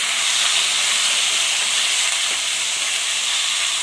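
Pieces of mutton fry in a hot pan, giving a loud, dense, unbroken sizzle that stays even throughout and is heard without any voices.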